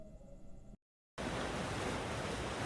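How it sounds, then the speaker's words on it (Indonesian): Waves break on Nembrala beach as a steady, full roar of surf that starts suddenly after a short silence, following a quieter humming stretch, with no voices. "Suara debur ombak pantai Nembrala yang lama-lama terdengar membuat suasana kian keruh"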